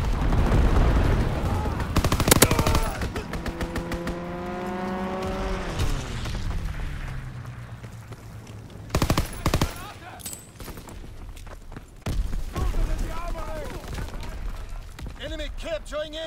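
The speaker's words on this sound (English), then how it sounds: "Enemy strafing run inbound." Enemy strafing run in the Call of Duty WWII Pointe du Hoc battle: bursts of automatic gunfire and heavy impacts mixed with a descending aircraft engine whine, all under frequent battlefield voice callouts.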